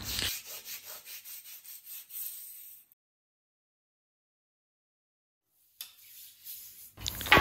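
A laundry brush scrubs bathroom tiles in quick, rhythmic back-and-forth strokes up close. The scrubbing stops for a few seconds of silence, then resumes briefly.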